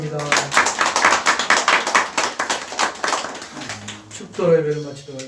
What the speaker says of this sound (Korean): 우리 한기동 박진양 성모님 두 분 위해서 박수하겠습니다